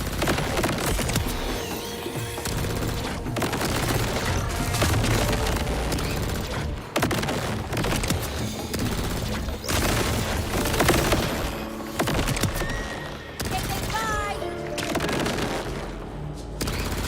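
Sustained, dense gunfire from a weapon in the video game Borderlands 4, loud and nearly continuous bursts with booming impacts and mechanical clatter, played on PC at hard difficulty with no talking.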